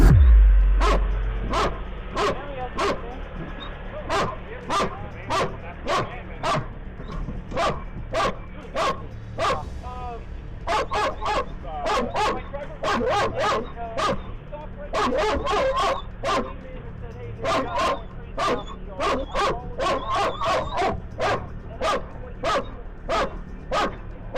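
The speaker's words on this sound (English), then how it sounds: "they also released the dog on him" A police dog barks repeatedly during an arrest, with rapid, loud, rhythmic yips and barks continuing steadily, mixed with whimpers and some background voices.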